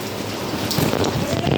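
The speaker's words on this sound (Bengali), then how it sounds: "প্রচণ্ড বৃষ্টি হচ্ছে" Heavy rain pours down in a steady, dense roar close by, continuous throughout with no breaks.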